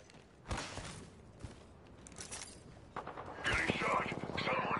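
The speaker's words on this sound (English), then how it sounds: "Getting shot." Bursts of gunfire in the Apex Legends battle royale game, sharp volleys at about half a second, one and a half and two and a half seconds, then a denser rapid stretch near the end, mixed with game noise.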